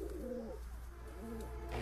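Pigeons coo softly in a loft where a pair has laid two eggs, low rolling calls repeating in two bursts at a gentle distance with no one talking.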